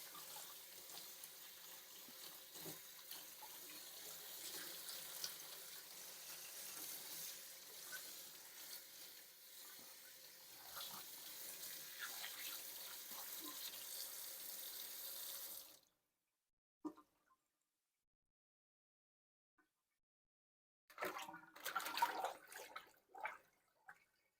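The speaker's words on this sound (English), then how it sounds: "Just gonna rinse it off real good." A kitchen tap runs steadily over a flat-cut corned beef being rinsed, giving a continuous close splash and hiss. It cuts off to silence, with a few brief splashes after the stop and a short burst of water near the end.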